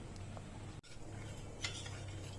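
A spoon stirs sugar into milk in a cooking pot while making firni, soft steady scraping and light clinks over a low simmering hum, close and quiet.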